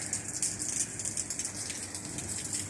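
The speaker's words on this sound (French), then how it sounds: "Et il pleut." Steady rain patters on a deserted street in Rome, a continuous close hiss of drops on pavement with no voices and only a faint bird call somewhere behind it.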